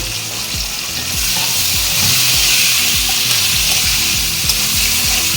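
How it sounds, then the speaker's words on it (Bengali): Chopped onions fry in a pan with dried red chillies and bay leaves for mutton curry, giving a loud, steady close-up sizzle with repeated scraping strokes of a stirring spoon throughout. "এখন আমি কুচানো পেঁয়াজ দিয়ে দিলাম পেঁয়াজটা লালচে করে ভেজে নেব"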